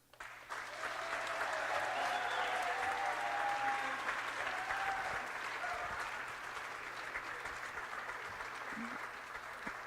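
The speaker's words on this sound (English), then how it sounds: "one last big round of applause for all of the seniors" A gym crowd at a varsity volleyball senior night gives the seniors a long round of applause, steady and full for nearly ten seconds after a sharp start, with faint background chatter underneath.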